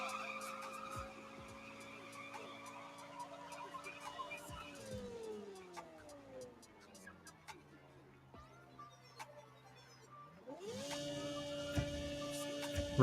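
A race car engine in the Nitro Nation racing video game revs and shifts, pitch climbing steadily, dropping, then rising again near the end, with tire noise around it.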